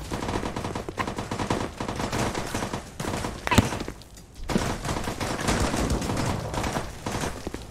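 Gunfire in a VR shooter game rattles in dense, rapid bursts almost without a break. A sharp louder crack stands out partway through, and a brief lull follows before the shooting resumes.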